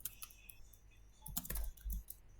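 Soft, quick keystrokes on a computer keyboard as router OSPF configuration commands are typed, a sparse scatter of light clicks growing into a short denser burst near the end, close and quiet.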